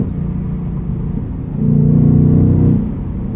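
A 2024 Ford Mustang Dark Horse with a 500 hp engine and six-speed manual gives a steady low rumble while driving, which swells louder for about a second and then settles back to a constant drone, with no voices.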